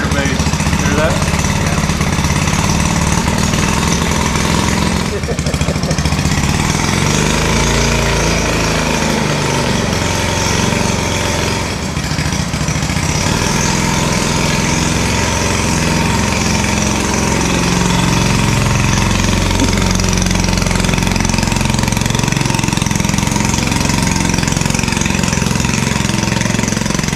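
Small Honda Z50 motorcycle engine idling steadily up close with an air leak at the carburetor base, a continuous loud rumbling drone with a brief dip around five seconds, and a voice talking over it.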